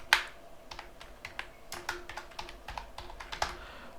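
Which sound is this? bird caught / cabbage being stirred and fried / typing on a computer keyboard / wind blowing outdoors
typing on a computer keyboard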